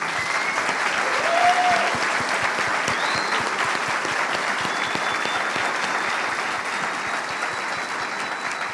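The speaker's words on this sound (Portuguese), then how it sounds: "eu gostaria mesmo que vocês pudessem agora, comigo, aplaudir essas pessoas que fizeram esse evento acontecer" A forum audience at a startup and industry innovation event claps for the organizers, a sustained, even burst of many hands that holds loud throughout, with a faint crowd murmur underneath.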